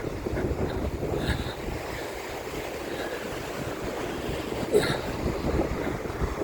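Steady roar of ocean surf on a beach at Gwangalli, Busan, with gusty wind buffeting the microphone, waves washing in continuously with a brief louder surge midway.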